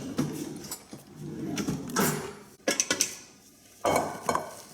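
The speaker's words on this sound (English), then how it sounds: "Next, we're going to add our rice." Two cups of cooked rice go into a chicken and rice casserole dish, heard as close clinks and scrapes of a spoon against the dish, with a few sharper taps in irregular bursts and no talk.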